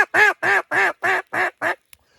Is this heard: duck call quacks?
yes